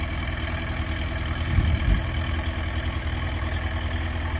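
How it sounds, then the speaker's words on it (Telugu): A tractor engine running steadily while working soil onto a pond embankment, a loud, close, continuous diesel drone with a brief heavier thump midway. "ట్రాక్టర్ చూడండి ఎండలో ఎంత కష్టపడుతున్నారు"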